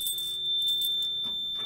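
Simplex 4010 fire alarm panel sounding a steady, continuous high-pitched trouble tone, faint against a quiet room with light keys jangling and handling noise.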